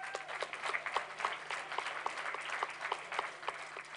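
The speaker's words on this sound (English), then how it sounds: "Let's give them a round of applause." An audience applauds the Keene High dance team at a children's fitness event. Steady, fairly distant clapping with sharp individual claps standing out, continuing throughout with no talk over it.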